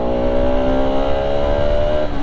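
A Bajaj Pulsar RS 200 BS3 motorcycle engine roars on the road, a loud, close, sustained drone with steady harmonic engine tones and rushing wind, held at a constant pitch.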